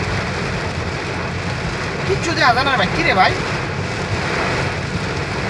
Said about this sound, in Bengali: দেখ অবস্থা বৃষ্টির